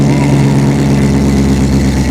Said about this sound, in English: All right, fire her up, Russell.